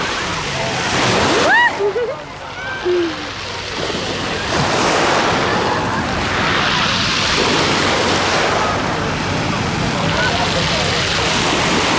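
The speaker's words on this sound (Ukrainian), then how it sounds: "трішки вам медитації, звук моря." Sea surf washing onto the shore on the Côte d'Azur near Nice and Menton, a steady broad rush of breaking waves with wind noise on the microphone, and a brief voice near the start.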